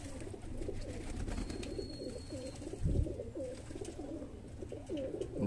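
Golden pigeons, young highflyer birds, coo softly and repeatedly in low rolling calls, close but fairly quiet, with faint ambient noise and no talking.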